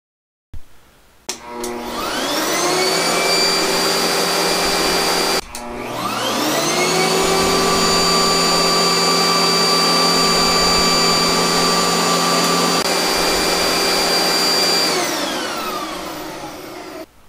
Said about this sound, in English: We will first demonstrate with a 12 amp home vacuum